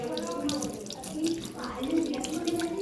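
Tap water runs steadily into a sink while something is rinsed clean of sweet syrup at home, a continuous close splashing stream with faint speech mixed in.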